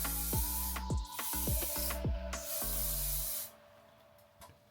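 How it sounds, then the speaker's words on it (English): Short bursts of hissing hair spray come from an aerosol can nearby, several quick puffs and then a longer one. "I'm going to spray all around my leave out with some Sebastian hair shaper spray"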